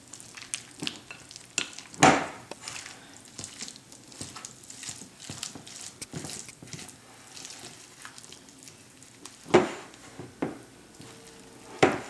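Fiesta dip with black olives being stirred in a bowl, soft wet scraping and clicking strokes in an irregular rhythm, close and fairly quiet, with a few louder knocks.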